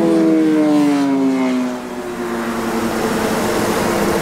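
A 2006 GMC Sierra Denali 1500 truck with a 6.0 liter Vortec Max engine runs under an open hood, a steady loud drone with a whine that slides downward in pitch, then settles into an even hum.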